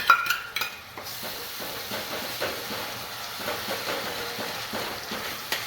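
Ginger-chili and onion paste sautés in oil for baingan bharta, a steady soft sizzle and hiss with faint stirring scrapes, fairly quiet and continuous.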